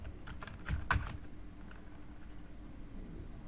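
Soft clicking of a computer keyboard as someone types out a blog post, a short burst of keystrokes near the start and then fainter, sparse taps over a low room hum.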